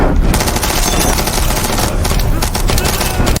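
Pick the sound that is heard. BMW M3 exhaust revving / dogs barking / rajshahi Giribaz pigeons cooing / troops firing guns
troops firing guns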